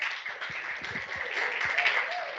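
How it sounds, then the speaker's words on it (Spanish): Audience applause for a newly introduced area representative at a recorded school discussion meeting, a steady patter of clapping from a modest group lasting throughout, with faint voices underneath. "un aplauso para Marcita"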